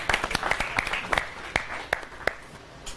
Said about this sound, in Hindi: तो जोरदार तालियों के साथ स्वागत करिए डॉक्टर प्रेरणा ठाकरे जी का।